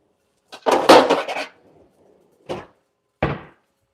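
A biscuit pan is pulled out in a home kitchen, with a burst of metal pans clattering and rattling followed by two separate sharp clanks, close and distinct, no talk.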